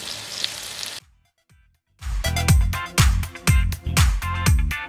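Onions sautéing with salt and curry leaves for chicken curry: a sizzle fades to near silence, then a run of loud, rhythmic spatula scrapes and knocks against the pan, close up, with no voices.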